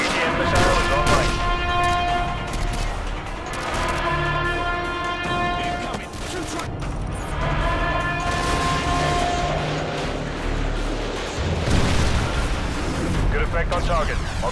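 Missile strike explosions from AGM fire in Call of Duty: Modern Warfare 2 on PC, a continuous loud roar of booms and blasts over a sustained rumble, with voices and game audio mixed in.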